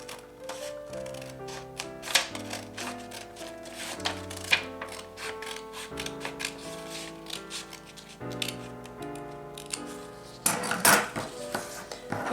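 Scissors cut a sewing pattern along a drawn line, a quick series of crisp close snips and paper rustles with soft music underneath, growing busier toward the end.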